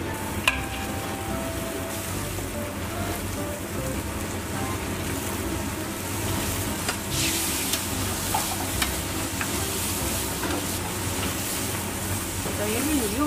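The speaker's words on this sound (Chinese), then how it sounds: "全都用的炒菜机是吧？" An automatic stir-fry cooking machine fries meat in a restaurant kitchen. A steady, close, rain-like sizzle runs throughout while people talk over it.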